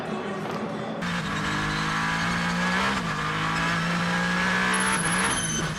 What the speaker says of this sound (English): you could hear the wheel spin